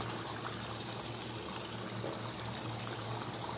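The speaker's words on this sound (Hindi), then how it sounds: "दही मिक्स होने के बाद इसमें आधी प्याली जो है वो पानी डाल दें।" Half a cup of water poured into a pot of yogurt curry, a steady, close splashing pour that runs continuously without talk.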